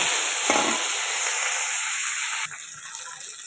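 Koi fish, already salted, rubbed with turmeric and fried once, sizzles again in a hot pan with oil: a loud, steady broadband hiss that drops to a softer sizzle about two-thirds of the way through, with no voices.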